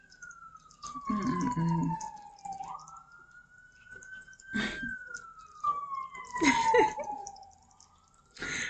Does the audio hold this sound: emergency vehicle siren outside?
yes